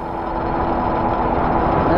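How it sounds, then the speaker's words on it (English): A city bus pulls up, its heavy engine rumble steady and close, swelling gradually louder as it draws near. "There's the bus."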